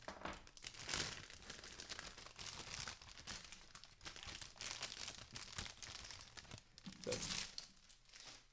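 Thin plastic bag from a Gundam model kit crinkles and crackles continuously as it is cut open, close and fairly loud, with a sharper rustle near the start and another burst toward the end.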